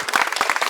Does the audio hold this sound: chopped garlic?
no